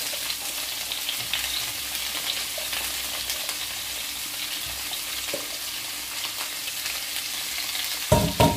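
Peppers sizzle and crackle steadily in a hot frying pan, a continuous close hiss, with a brief clatter right at the end.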